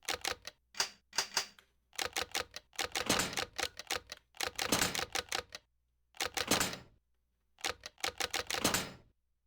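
Keys on a medical icebox keypad lock in Silent Hill: Origins click in rapid bursts of sharp, mechanical taps, separated by short silent pauses, close and crisp with no talk.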